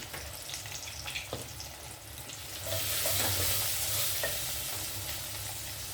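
Asafoetida hits hot oil for tempering, and after some quiet stirring and clinking the pan breaks into a loud, bright sizzle that holds for a few seconds and then eases slightly.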